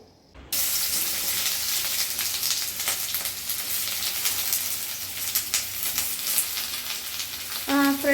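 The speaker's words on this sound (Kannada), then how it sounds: "ಇವಾಗ ಆಯಿಲ್ನ ಹಾಕ್ಕೊಂಡು ಇವಾಗ ಈರುಳ್ಳಿನ ಹಾಕ್ಕೊಂಡಾಯಿತು ಈರುಳ್ಳಿ ಫ್ರೈ ಮಾಡ್ತಾ ಇದ್ದಾನೆ" Onions frying in hot oil in a home kitchen give a steady, close sizzle from start to finish, with light crackles and a few scrape-like clicks near the end.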